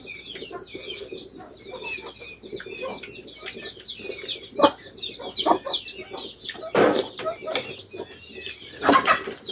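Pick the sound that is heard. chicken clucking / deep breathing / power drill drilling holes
chicken clucking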